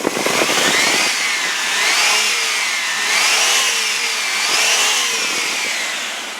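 The 4.3-liter Vortec V6 of a 2000 Chevy Blazer LT revs up and down in three smooth swells, its tone rising and falling steadily, close and loud with no talking.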